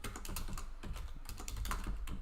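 Rapid, irregular clicking of keys on a computer keyboard, steady and fairly close, with brief pauses between bursts and no voices.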